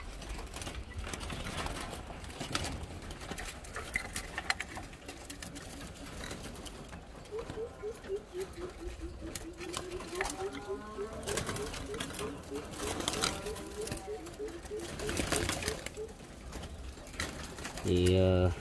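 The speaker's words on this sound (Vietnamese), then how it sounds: "những con này kể con chim cái bón đến lúc nó cũng lên khách hết, cũng gù hết" Young turtle doves cooing in a breeding setup, repeated soft low coos rising and falling mid-clip amid faint background noise and a voice talking.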